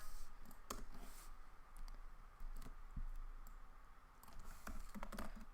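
Quiet keystrokes on a computer keyboard, a scattered handful of soft clicks over a low hum, with a few taps bunched together near the end.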